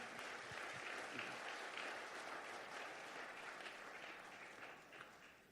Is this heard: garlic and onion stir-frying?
no